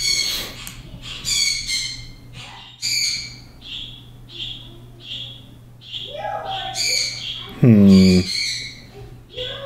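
Birds give repeated bright chirps and squawking calls in a rapid, irregular series, fairly close and loud, with a lower hoarse call near the end, over a constant electrical hum.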